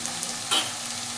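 Onion, tomato and spice masala for misal frying in a pan, a steady hiss of sizzling oil with one brief stirring scrape in the middle.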